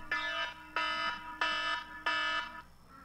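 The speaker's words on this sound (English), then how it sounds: "Oh no, my alarm just went off." An alarm goes off in four loud, evenly spaced electronic bursts, each a harsh buzzing tone lasting about half a second with short gaps between, over a faint background hum.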